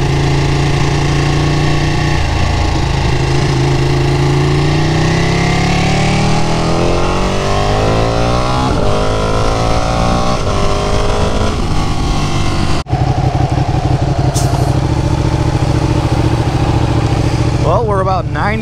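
Ducati Panigale 959 motorcycle engine on a road trip, a loud steady drone rising and falling in pitch through gear changes with constant wind roar, close and continuous throughout.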